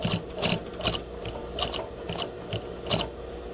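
A 1982 sewing machine stitches a fabric pocket, its quiet mechanical whir rising in several short bursts of stitching separated by brief pauses, steady and close with no talking.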